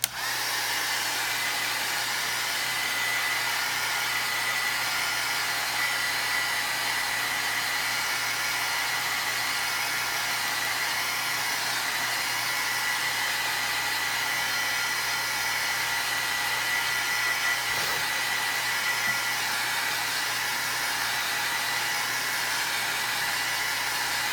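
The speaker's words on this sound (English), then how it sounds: "I'm gonna hit it with a heat gun" A heat gun blows a steady, loud whooshing roar for over twenty seconds while drying ink on a craft tag, continuous and close with no talk.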